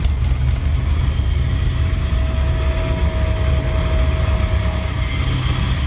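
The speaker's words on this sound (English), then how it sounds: "We're just warming up the engine." A NASCAR-style stock car engine, built without windows or doors, warms up on the Nürburgring, giving a loud, steady idle rumble with a faint constant whine above it.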